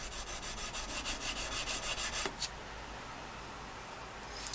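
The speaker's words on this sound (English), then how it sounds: "we're actually going to use just the edge of the sandpaper" Sandpaper rubs by hand across a knife blade in quick, even strokes, a soft rhythmic scratching for about two seconds, then quiet with a few faint touches.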